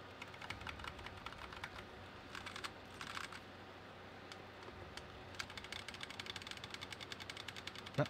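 Rapid typing on a very small, tiny white keyboard, a steady run of light clicks and taps with a couple of short pauses, close up and alone without talk.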